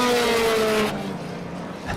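A Lotus Elan historic race car sweeps past on a circuit, its engine loud and close, pitch dropping as it passes and fades over about a second, with a commentator's voice faintly present.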